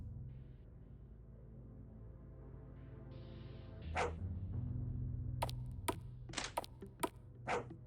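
A dog in the game Blackout Hospital gives several short, sharp barks and yips in the second half, over a low droning ambient hum; the barks are fairly faint.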